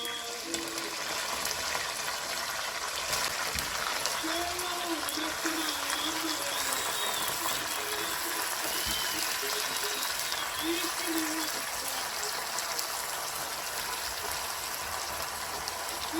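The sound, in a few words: broccoli rabe frying in a pan with garlic and anchovies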